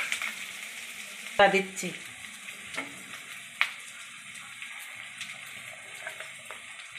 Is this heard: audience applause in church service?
no